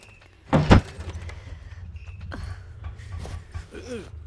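A door is pushed shut with a sharp, loud thunk, followed by a low room hum and scattered faint voices talking quietly.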